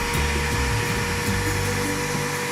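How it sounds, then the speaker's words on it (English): A strong vacuum sucking old fuel out of the fuel tank of a Ford Model A, heard as a steady, loud, close motor whine and airy roar running without pause and without talk. "I'll find a vacuum. Better be a strong one."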